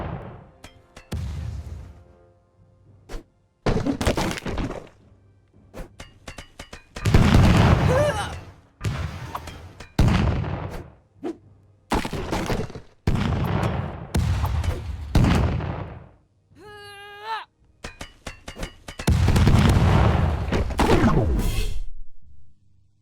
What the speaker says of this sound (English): Oh wait, that's not a bomb move? It's a cannon barrage?